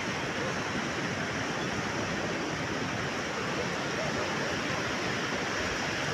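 Sea waves rolling in as the high tide rises along the shore at the Palande–Salдure border beach, a steady, broad wash of surf noise without distinct breaks.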